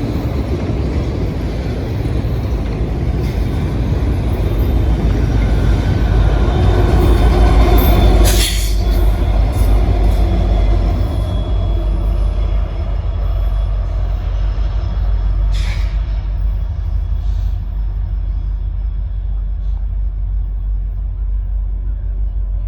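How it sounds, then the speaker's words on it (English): A long freight train rolls steadily past up close with two pusher locomotives shoving at the rear, a loud continuous rumble of wheels and engines with brief squeals and clanks partway through. "Got two locomotives shoving the rear. A couple pushers here."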